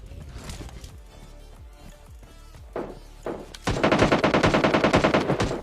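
Gunfire in a battle royale video game: scattered single shots early on, then a loud sustained burst of rapid automatic fire in the last two seconds, close and dense.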